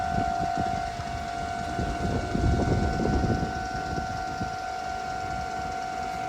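A Tokyo railroad grade crossing rings a steady two-tone electronic alarm, continuous and fairly loud, while a train rumbles past underneath with rhythmic wheel clatter swelling midway.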